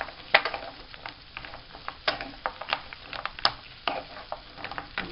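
Frozen potatoes frying in a pan, a steady close sizzle broken by crackles and scraping stirs through the whole stretch, with no talking.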